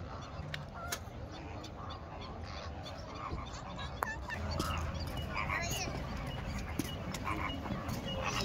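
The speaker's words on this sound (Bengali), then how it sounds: "রাজহাঁস, পাতিহাঁস আর ওদিকে বক, প্রচুর পরিমাণে বক।" Geese and ducks at Al Qudra lake in Dubai, honking and quacking faintly at a distance over a steady outdoor wash, with scattered calls, a dog barking somewhere and people talking softly in the background.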